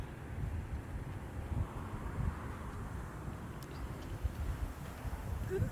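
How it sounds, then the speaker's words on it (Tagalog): Gusty wind buffets the microphone with a steady low rumble that swells and eases, faint and continuous with no voices. "Ang hangin, no?"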